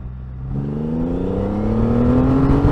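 Triumph Rocket 3 GT motorcycle accelerating hard in first gear, its engine note climbing steadily in pitch as it builds revs, loud and close throughout.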